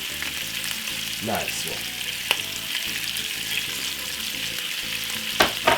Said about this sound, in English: Just roll them all over another frying pan like this and fry them for roughly 5 minutes on a medium size heat.